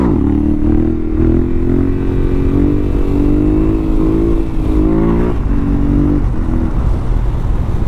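A brand-new Yamaha Ténéré 700 motorcycle rides through the woods, its engine loud and close throughout. It drones and revs continuously with rising and falling pitch, and there is no talking.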